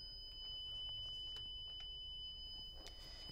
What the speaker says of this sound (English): set off my temperature sensor. The alarm goes off.